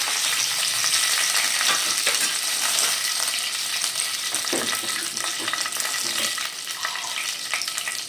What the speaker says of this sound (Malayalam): അതിലേക്ക് ഞാനൊരു കറിവേപ്പിൽ ഒരു വറ്റൽമുളക് ഇട്ടെടുത്തിട്ടുണ്ട്